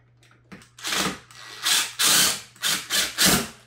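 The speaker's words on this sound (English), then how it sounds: "then I'll get my drill bit and I drill it in place like this." A cordless drill drives a screw into a window blind bracket in a series of loud, ratcheting bursts, five or six short whirring pulls with brief pauses between.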